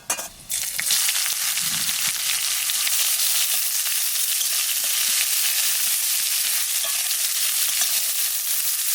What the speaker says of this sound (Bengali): পেঁয়াজটা লাল লাল করে বাজিয়ে নিচ্ছি